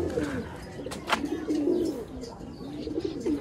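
Rooftop pigeons coo in repeated rolling phrases, close and continuous, with a few sharp clicks and flutters among them.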